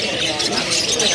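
Young and adult AFS canaries in a bird kiosk, with dense, hissy squawks and chirps filling the shop under a person talking.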